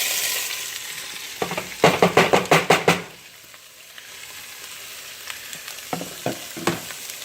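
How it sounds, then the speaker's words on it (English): Shrimp searing in a hot pan: a continuous sizzle broken by a quick series of loud, rhythmic scraping strokes, then a quieter simmering hiss with a few more scrapes near the end. "we're going to go ahead and start searing up some of these shrimp"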